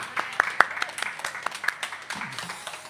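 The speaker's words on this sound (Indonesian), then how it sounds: "Kita tepuk tangan lagi dong, lebih kencang buat profesor baru kita." Audience applause after a talk by an Islamic preacher, a moderate, somewhat distant patter of scattered clapping that gradually thins out, with no voices.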